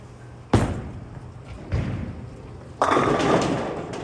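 A bowling ball rolls down an oiled house-shot lane and strikes the pins: a sharp thud as the ball lands, a duller knock mid-lane, then a loud crash of scattering pins that clatters on for over a second, with no talk.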